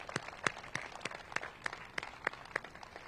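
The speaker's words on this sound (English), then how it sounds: "So let's give her and the community a round of applause for that." Scattered applause from a small audience at a DC grocery store grand opening, a few separate hands clapping in uneven bursts, fairly quiet and thin rather than a full ovation.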